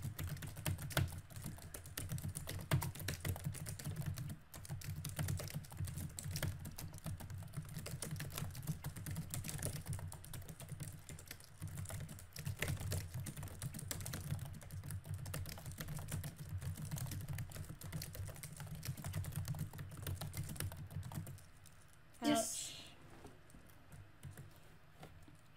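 Steady, rapid typing on a computer keyboard runs for about twenty seconds over a low background hum, then stops, leaving a brief faint chirp near the end.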